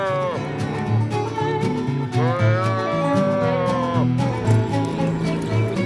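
Calves moo and bawl repeatedly at close range during ranch branding, their drawn-out calls overlapping over a steady background rumble.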